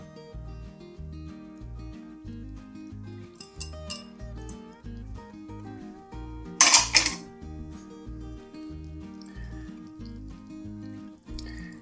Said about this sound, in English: Now we're going to stir in our wet ingredients into our dry ingredients.